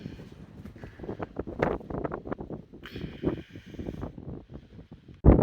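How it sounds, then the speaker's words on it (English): Strong wind gusting outdoors at Coastal Breeze RV Resort, a steady rushing buffet against the microphone with irregular surges and a loud gust at the end, no voices. "it's really windy, guys, and I'm trying to hold the jacket on there"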